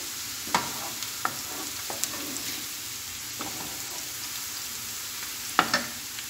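Onions and garlic sizzle steadily in a frying pan while being stirred, with a soft continuous hiss broken by scraping stir strokes, close and alone without talk.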